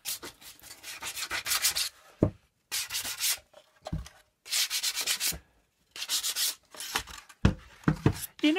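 Painted wood edge being rubbed with abrasive to distress it, loud close rasping strokes in several bursts of about a second each, separated by short pauses and a few light knocks.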